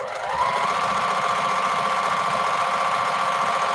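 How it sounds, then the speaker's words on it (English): A sewing machine stitches 2.5-inch fabric strips together, running in one steady, continuous whir with a constant mechanical hum from start to finish, close by and alone. "And I'm gonna be sewing and working on these, getting me some strips ready."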